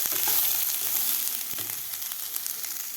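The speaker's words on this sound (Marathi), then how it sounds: "मटरसुद्धा आपल्याला एक मिनिटभर तेलामध्ये फ्राय करायचे आहेत" Peas, potatoes and broccoli fry in oil with a loud, dense sizzle, joined by a few scraping stirs partway through, and no voices.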